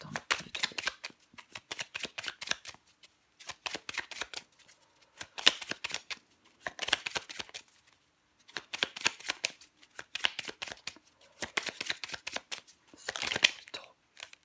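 Tarot cards being shuffled by hand in repeated riffling bursts of crisp, papery flutters, each lasting about a second or two and separated by short pauses, close and moderately loud with no talking.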